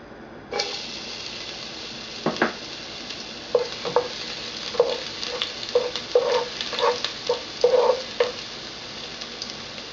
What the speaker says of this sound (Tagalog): igigisa natin yung bawang